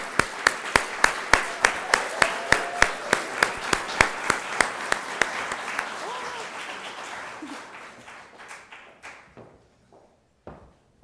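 Audience applause at a college staff awards event, beginning with sharp rhythmic unison claps that break into scattered clapping and fade out, with a few last isolated claps.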